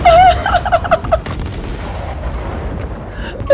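Mortar strikes in Modern Warfare 3 landing as a heavy booming blast followed by rumbling debris, with a chirpy electronic alert tone repeating over the first second and another tone at the end.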